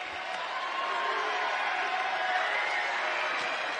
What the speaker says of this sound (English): And you hear the Murray State faithful applauding DJ Burns for that effort